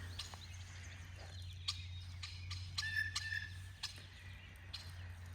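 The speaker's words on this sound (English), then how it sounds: "I have the most obnoxious birds that decide to come out right now, the blue jay and the red-winged blackbird" Blue jay and red-winged blackbird calling in a spring garden in Maine, scattered sharp calls and trills at moderate distance over a steady low hum.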